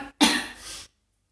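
One person giving a single short harsh cough close up, cut off abruptly and followed by silence.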